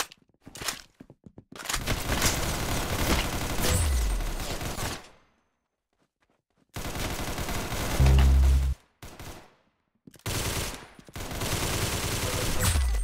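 Roblox Arsenal gunfire, bursts of rapid automatic shots broken by sudden silences, with a heavy low thump around the middle and more firing resuming toward the end.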